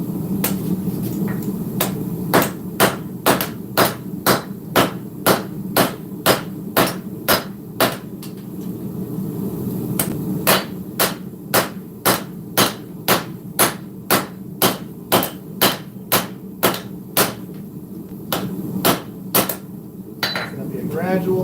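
Steel hand-hammered while forging a Viking sword rings out in a fast, even series of sharp metallic strikes, loud and close, with a short pause midway before the blows resume.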